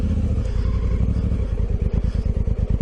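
A Honda Africa Twin motorcycle engine thrums while riding, a loud close rhythmic chug whose firing pulses grow sharper and more pronounced toward the end.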